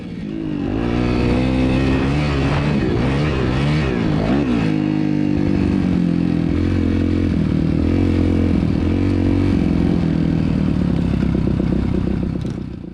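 A Kawasaki KX250 dirt bike engine revs and drops repeatedly on a slow lap of a track, rising and falling loud two-stroke whine with clattering mechanical noise, close throughout.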